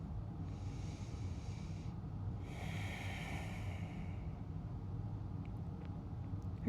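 Two slow, deep breaths during a yoga pose, an audible inhale then a longer exhale, soft and close over a low background rumble, followed by quiet.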